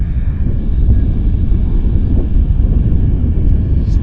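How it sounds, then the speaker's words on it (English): A Harbour Air turbine float plane heads toward Vancouver Harbour near Vancouver airport, heard as a steady low rumbling drone with wind buffeting, fairly distant and without talk. "Yeah, we got a float plane."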